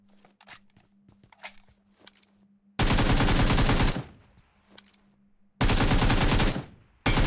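Gunfire in PUBG Mobile comes as two loud, sustained automatic bursts of rapid shots, with quieter scattered pops and footsteps between them.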